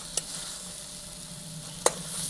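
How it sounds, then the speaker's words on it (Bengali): Ground spice paste with cashew and onion is stir-fried in a pan for a Bengali fish-roe fritter dish, giving a steady close sizzle with two sharp scraping clicks from the spatula. "এবার সবগুলো ভালো করে কষে নেব"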